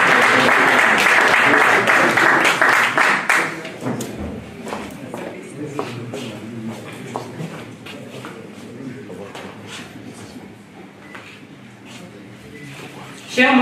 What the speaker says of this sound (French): Sous vos applaudissements, s'il vous plaît, Madame Céline Nassar Batexeira.